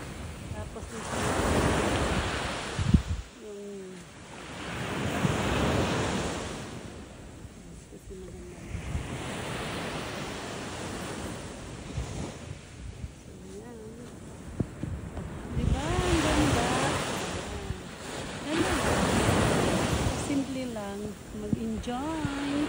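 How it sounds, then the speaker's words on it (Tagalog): Ocean waves surge and break in repeated swells, with strong wind buffeting the microphone and a voice speaking in between. "ganda ng alon ng tubig"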